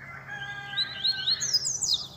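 Several birds chirp and tweet in quick, high-pitched bursts, fairly close, with a faint steady hum underneath and no voices.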